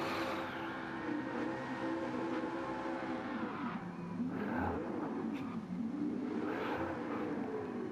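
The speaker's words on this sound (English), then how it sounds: "Fabuki pulls up before the line and starts doing his donuts" Race car engine revving and wavering in pitch while doing donuts in Gran Turismo 7 with a Gr4 car, a steady loud drone that rises and falls in sweeping arcs throughout.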